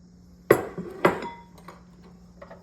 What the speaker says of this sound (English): Let's go ahead and get that stirred into it so it's evenly distributed in there